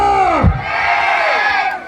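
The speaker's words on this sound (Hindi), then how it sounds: "ताली बजा के आमीन बोलिए।" A church congregation at a youth revival meeting in India claps and shouts amen together, a loud, close crowd roar of many voices that swells and holds for about two seconds.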